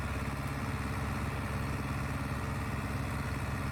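A John Deere 2510 tractor engine idles steadily at close range, a continuous low, even mechanical rumble with a fine regular firing pulse and no voices over it.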